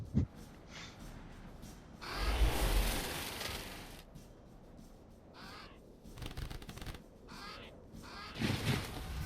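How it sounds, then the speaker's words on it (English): Crows caw during a battle for a village in the video game Age of Wonders 3, harsh repeated calls in uneven bursts amid rustling and shuffling game sounds at moderate loudness. "The battle for this village is going to be won by 2 crows."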